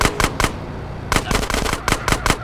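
AK rifle fire in Grand Theft Auto San Andreas: loud, close bursts of rapid shots, a few quick cracks, a short pause, then a longer stuttering volley of repeated shots, with no talking.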